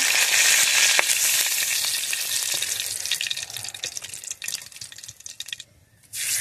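Nigella seeds and whole dried chilies sizzle and crackle steadily in hot white oil, a close, loud frying hiss that thins out toward the end, with no voices.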